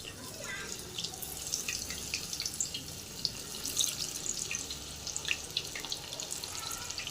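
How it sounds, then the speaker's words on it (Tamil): Raw banana pieces fry in hot oil for a spicy banana 65, producing a steady close sizzle scattered with small crackles and pops. No voices. "இப்போ எண்ணெய் காஞ்சிகிட்டு இருக்கு ஒன்று ஒன்றா போட்டுடலாம்"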